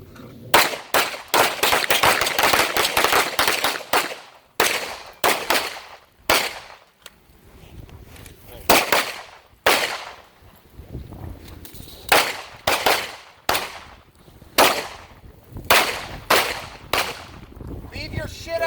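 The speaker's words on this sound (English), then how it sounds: "You got 2 rounds from the holster." A pistol fired in pairs drawn from the holster on an outdoor carry training range, with loud sharp shots in repeated double-tap bursts from several shooters and short pauses between strings.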